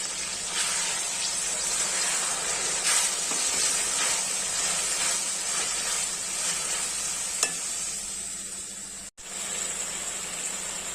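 Mutton mince sizzling in a pan, a steady close frying hiss with repeated soft stirring scrapes and a few sharper clicks, no voices.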